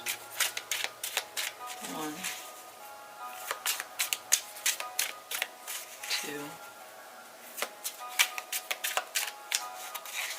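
Tarot cards being shuffled in quick, crisp riffling bursts, close and fairly soft, with short pauses between shuffles while a voice counts along.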